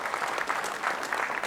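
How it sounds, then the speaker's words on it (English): Awards-ceremony audience applauding, a dense patter of many hands clapping at a steady level throughout the short stretch, with no talk over it. "You feel free to applaud."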